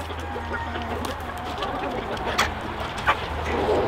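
Thai chickens on a Hmong American chicken farm, with scattered bird calls and short clucks over a steady background hum of the farm, fairly close but not loud.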